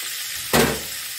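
Garlic and meatballs dropped into a hot pan, a brief burst of sizzling that flares up suddenly and then settles into a soft steady hiss.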